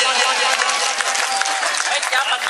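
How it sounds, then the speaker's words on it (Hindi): A crowd at a mushaira, an Urdu poetry gathering, claps loudly and densely for Kamal Verma in a continuous burst of applause that stays close and full throughout. "जोरदार तालियों से इस्तकबाल कीजिए"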